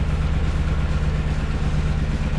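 A Yamaha Tenere 700 with its CP2 twin engine runs nearby, a loud, steady, low throbbing rumble with an even pulsing beat and no clear rise in revs, heard alone without talking.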